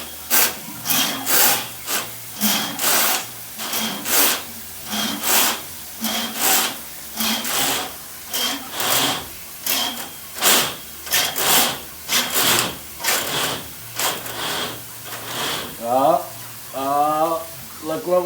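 A 7/8 inch drain snake cable is pulled back out of a 45-foot main drain line, a rhythmic scraping and rubbing repeating in steady pulls about once a second, close and fairly loud. A voice is briefly heard near the end.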